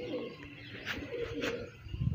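A held female pigeon, still dazed and weak after being caught, gives soft low coos, with a couple of faint brighter rustles in between at close range.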